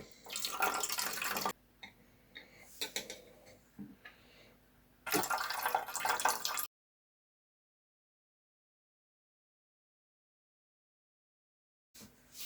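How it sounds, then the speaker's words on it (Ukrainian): Boiling water is poured out of jars in several splashing bursts, with short pauses between pours, close by, then silence before a brief final splash. "Я просто зливаю окріп."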